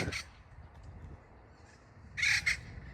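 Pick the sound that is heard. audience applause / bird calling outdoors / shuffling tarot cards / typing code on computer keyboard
bird calling outdoors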